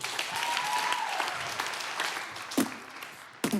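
Applause from a comedy show audience, moderately loud and sustained, thinning toward the end as a few sharp sounds and a short voice break through.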